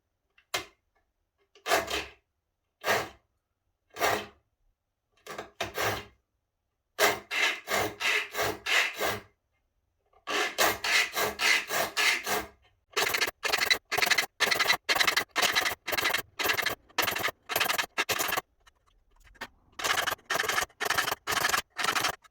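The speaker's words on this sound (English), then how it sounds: "I'm going to start to file the teeth in roughly just to get their shape" A file rasps across an old saw blade, shaping new teeth for a dovetail saw. The strokes are short and dry: a few separate ones at first, then quick steady runs of back-and-forth filing with brief pauses between them.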